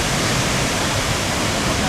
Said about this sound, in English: I'm showing you the waterfalls